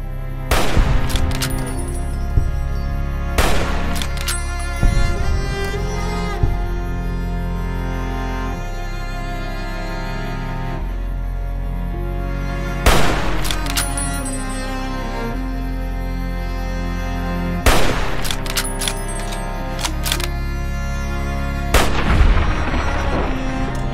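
Loud gunfire in Fallout: New Vegas, with repeated sharp shots aimed at a rat standing out in several clusters over a steady game backdrop, with no talking.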